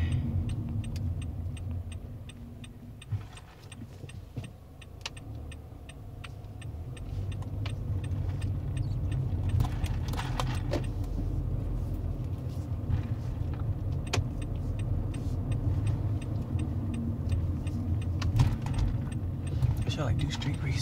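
A car driving, with a steady low engine and road rumble throughout, plus light jangling and rattles inside the cabin and a person talking over it.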